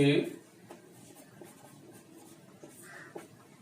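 Chalk or marker writing out a chemistry reaction on a board, giving faint, scratchy strokes in short irregular taps after a brief voice at the start.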